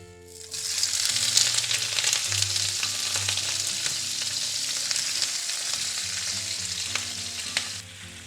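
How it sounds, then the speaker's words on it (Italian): Drained artichokes fry in a pan with garlic-flavoured oil, a loud, close, crackling sizzle that swells quickly and holds steady, with occasional stirring scrapes and a low hum beneath. "Iniziamo a far rosolare, quindi insaporire i carciofi."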